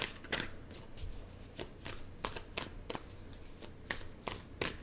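Tarot cards shuffled by hand in a quiet room, a steady run of soft riffling flutters and papery slaps repeating every half second or so, close and alone.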